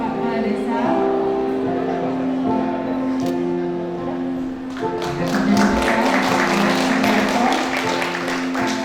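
Audience applause at a church anniversary gathering, hushed tones and a background voice giving way to a swell of clapping midway that carries on steadily to the end, moderately near, with talk mixed in.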